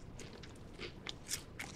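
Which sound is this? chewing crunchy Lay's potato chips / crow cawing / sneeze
chewing crunchy Lay's potato chips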